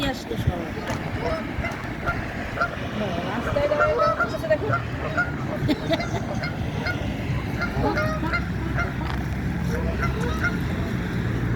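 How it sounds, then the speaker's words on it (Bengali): A flock of geese honks repeatedly while standing in icy meltwater in Illinois, overlapping calls near and far, with a person talking underneath at times. "রাজহাঁসগুলো বরফ গলা জলে দাঁড়িয়ে আছে"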